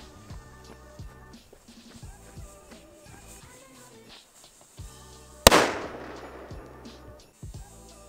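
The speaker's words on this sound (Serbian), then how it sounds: "Znači ovo je rafal koji možemo napraviti od ovih petardi koje su ostale." Leftover P1 petards, among them a Megatron, go off as a firecracker barrage: scattered sharp pops lead up to one loud, close blast with a crackling tail, followed by a few more faint pops.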